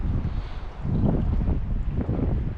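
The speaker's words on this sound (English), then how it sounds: "Oh, I hate wind." Gusty winter wind buffets the microphone beside a stream in Cherokee while fly fishing, a low, rumbling roar that swells and fades with no talk.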